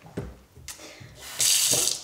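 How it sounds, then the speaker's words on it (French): Cold water pours from a refrigerator's water dispenser, a bright, hissing gush that starts after a few soft clicks and knocks and runs steadily to the end. "Eau fraîche du robinet."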